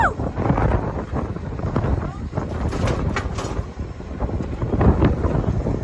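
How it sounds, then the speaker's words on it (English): Strong wind buffets the microphone in a steady, loud rumble, with gusts rising and falling throughout and faint voices underneath. "Oh my gosh, it's so windy!"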